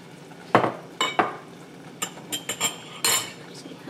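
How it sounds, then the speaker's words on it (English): Sauce for sweet and sour catfish stirred in a cooking pan, with a series of sharp metallic utensil scrapes and clinks against the pan, close and irregular over a faint sizzle. "just keep cooking and stirring"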